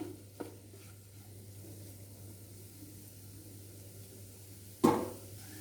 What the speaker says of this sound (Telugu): బాగా కలిసేలాగా ఒకసారి తిప్పుకొని